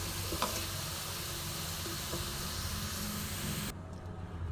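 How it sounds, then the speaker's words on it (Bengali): Masala for a potato fritter curry sizzles steadily in a pan as the oil separates, giving a dense continuous hiss with a few faint utensil touches before it drops off abruptly near the end. "দেখো কি সুন্দর তেলটা ছেড়ে দিচ্ছে মশলা থেকে।"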